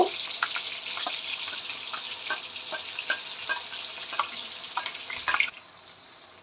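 Ginger garlic paste sizzles steadily in hot ghee for a Pakistani chicken curry, a continuous close crackle with periodic scrapes and stirs that soften near the end.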